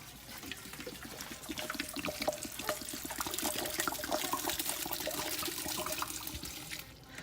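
Evian bottled water pours steadily into a pot of corn soup, a continuous splashing gush that runs for several seconds and tapers off at the end.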